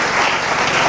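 Loud, dense applause from a church congregation acclaiming the king of kings, a brief burst of steady clapping close by with no voices.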